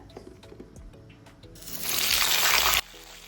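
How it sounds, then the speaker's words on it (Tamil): Okra fries in hot oil in a kitchen pan, with a loud, steady sizzle starting abruptly after a few soft clinks and cutting off just as suddenly. "இப்போ ஒரு பாத்திரத்தில் எண்ணெய் சேர்த்துருக்கோம் வெண்டைக்காயை வறுத்து எடுத்துடலாம்"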